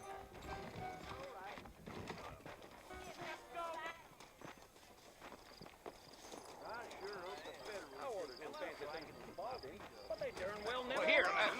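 Horse hooves in the video game Red Dead Redemption clip-clop at a steady trot under continuous talking, growing slightly louder toward the end.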